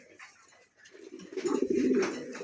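Pigeons kept for sale coo close by, a soft low murmur that swells into a louder, throaty, rolling coo over the last second or so.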